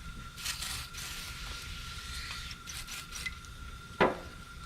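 Shop towels rub and wipe with brake cleaner to clear oil from an Allison 4000 series transmission during a filter and oil service. Steady soft scrubbing continues throughout, with one sharper scrape or clack near the end.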